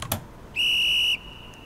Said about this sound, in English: One whistle, as is presently occurring, indicates it is safe for you to proceed.